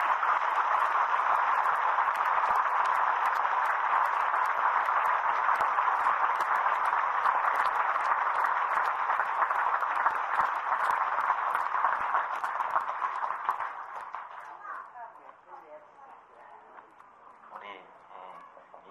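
A crowd at a 1987 Won Buddhist temple dedication ceremony in Incheon gives loud, dense, sustained applause that fades out near the end.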